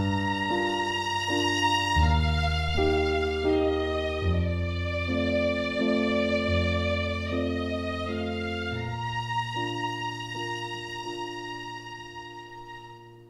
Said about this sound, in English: literally thrown down a tiny little tune with some piano to give it some context